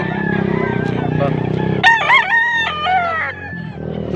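Rooster crowing at a Pampanga chicken market, a loud, close, drawn-out cock-a-doodle-doo rising over a dense background of other birds and people talking.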